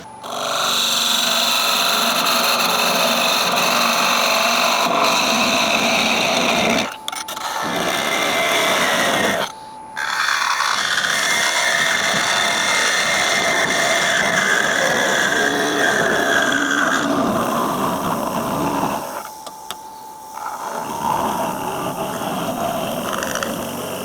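A wood lathe parting off an ash vase spins with a continuous whirring hum and scraping tool noise, briefly cutting out a few times before resuming.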